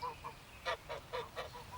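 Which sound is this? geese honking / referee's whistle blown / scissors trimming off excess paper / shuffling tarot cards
geese honking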